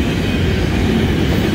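A Florida East Coast Railway freight train hauled by six-axle and four-axle locomotives rumbles past close by in a steady, continuous low roar with faint rail clatter, no voices.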